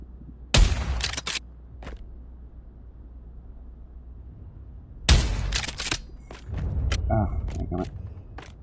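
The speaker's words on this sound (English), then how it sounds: "Alright, Lee Enfield, and I'm just gonna shoot, just shoot 5" Lee Enfield bolt-action rifle shots at a WWII shooting range in Pavlov VR: loud, close cracks with ringing tails, spaced apart with pauses and mechanical clicks between, and someone talking between shots.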